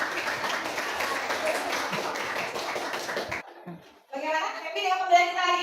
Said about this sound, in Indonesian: Tepuk tangan dulu buat Citra